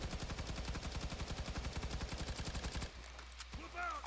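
An assault rifle in the game Firefall fires rapid, evenly spaced automatic shots for nearly three seconds, loud and close, then stops abruptly as a brief voice follows.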